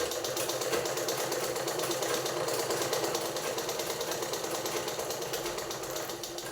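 A sewing machine runs steadily at close range, its rapid rhythmic needle clatter continuing without pause and easing slightly toward the end.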